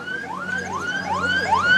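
An ambulance siren at a Gentleman and SuperG bike race in Badia Polesine, rising wails repeating in quick succession, moderately loud over a steady background hum.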